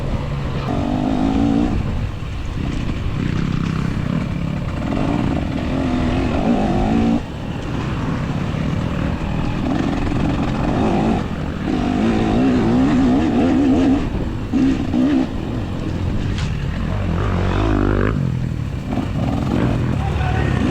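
Racing machines roar past at Oak Ridge during the final VCHSS 2024 race of the season, engines revving and rising in pitch under continuous loud track noise, with a voice talking over it.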